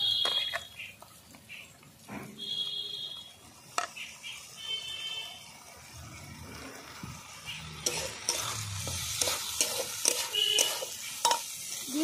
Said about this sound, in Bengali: ডাল ধুয়ে রাখা ডালটা পুরোটাই দিয়ে দেবো।